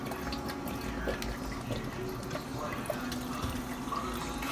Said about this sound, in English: And now it's time to add the water.